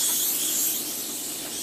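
Spray adhesive hisses from an aerosol can onto cardstock, one continuous close spray lasting the whole moment and easing slightly toward the end.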